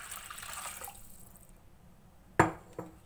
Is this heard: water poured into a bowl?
yes